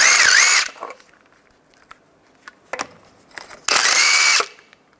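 Power tool spinning off aftermarket lug nuts on the front wheel of a 2007-2014 Chevrolet Silverado 2500 HD with a 22 mm socket, two loud bursts near the start and end of the clip with small clicks and clatter between them.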